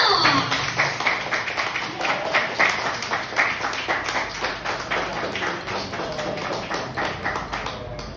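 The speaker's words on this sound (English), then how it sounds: "How about a big warm round of applause?" An audience at a beauty pageant contract signing and press conference applauds the board of directors with steady, dense clapping that carries on for several seconds at a fairly loud level.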